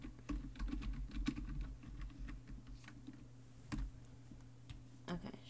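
Soft, irregular clicking of fingers typing on a computer keyboard, a quiet run of keystrokes with brief pauses and a few louder taps, heard close up without talk.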